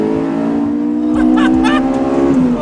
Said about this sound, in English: Rev it, rev it, rev it, rev it, rev it!